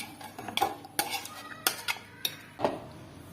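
Cooked yogurt chicken is spooned from a pot into a tiffin bowl, giving several sharp metal clinks and scrapes of a spoon against cookware, spaced irregularly and close by with no talking.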